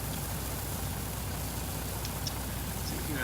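A farm vehicle's engine idles steadily in Farming Simulator 19, a constant low rumble wrapped in broadband hiss that stays even and unbroken throughout.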